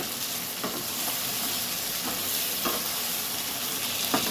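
Chicken fries in a pan while being stirred, a continuous loud sizzle with occasional soft scraping strokes of the spoon, steady throughout with no talking.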